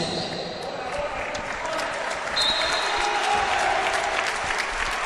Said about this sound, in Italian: Standing ovation per Vito Fovio che lascia il parquet